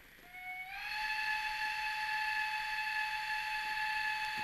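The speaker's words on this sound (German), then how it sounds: "Als erstes mal der Pfiff." Sound decoder in a BR 94 model locomotive sounds a steam whistle, one sustained bright tone that rises slightly in pitch as it starts and then holds steady, fairly light in the bass.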